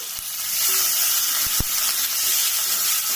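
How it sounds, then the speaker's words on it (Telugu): Green chilies stirred into coriander, curry leaves and mint frying in a pan give a loud, continuous close sizzle, broken by a couple of brief spoon knocks. "ఇప్పుడు పచ్చిమిర్చి అండి, పచ్చిమిర్చి వేసుకొని బాగా కలుపుకోవాలండి"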